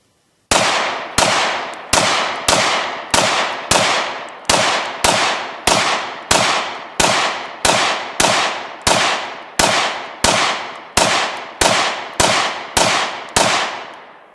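A handgun fired in a long, steady string of about twenty loud, sharp shots spaced roughly two-thirds of a second apart, each with a short ringing decay, outdoors and with no talk.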